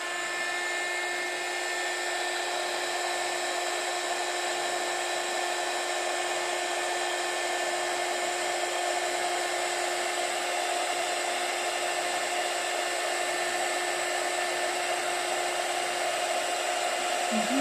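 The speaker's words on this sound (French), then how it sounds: "il ne reste plus qu'à venir chauffer avec mon heat gun" A heat gun runs continuously for a long stretch, heating embossing powder on a card with a steady whirring blower hum and high whine, even and moderately loud throughout, no speech.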